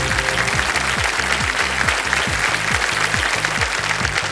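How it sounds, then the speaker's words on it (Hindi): The studio audience of the TV quiz show KBC bursts into loud, steady applause over a rhythmic, pulsing low music bed that continues underneath the clapping. "ताली बजाएं।"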